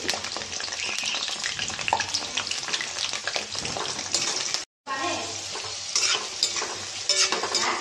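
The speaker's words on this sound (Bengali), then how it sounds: "এটা হালকা করে ভেজে নিচ্ছি" Beans lightly frying in a pan with a constant close sizzle and frequent stirring scrapes, broken by a brief silent gap before the frying resumes.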